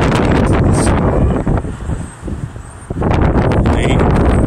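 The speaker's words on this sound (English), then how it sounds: "The wind just picked up like crazy." A strong wind gusts outdoors and batters the microphone with loud, close rumbling, easing briefly midway before roaring back.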